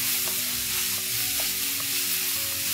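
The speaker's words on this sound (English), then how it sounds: "To this I'm going to add 3 medium-sized tomatoes. Saute this for 2 to 3 minutes." Three medium tomatoes sauté in a pan for a malai kofta curry, giving a steady, close sizzle with faint stirring scrapes and no talk.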